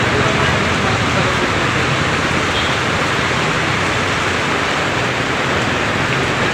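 Heavy rain pours near a roadway as a dense, steady roar of hiss that does not let up, close and loud throughout.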